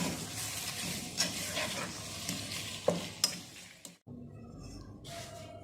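Spiced chicken sauce with chicken powder, red chili powder and hot sauce is stirred in a sizzling pan, with a few sharp scrapes of the spoon before the frying noise briefly drops away near the end.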